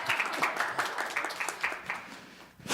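An audience claps for a speaker at a symposium talk concert, fairly sparse applause with distinct individual claps in an uneven rhythm, fading toward the end.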